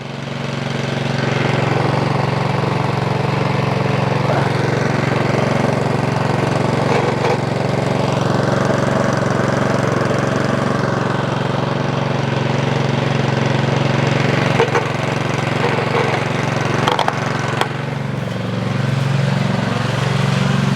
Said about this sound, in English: I'm a big fan of warming up your snowblower.